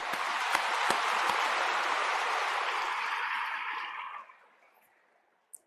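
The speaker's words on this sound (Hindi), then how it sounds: "मैं चाहता हूं एक बार अपने सम्मान में तालियां बजा लें" Applause from an audience at the launch of the Jal Jan Abhiyan in Mumbai: dense, steady clapping from a large crowd that swells and then tapers off over about four seconds, followed by quiet and one last stray clap.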